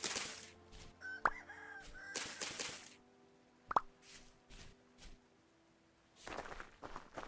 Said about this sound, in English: I heard chickens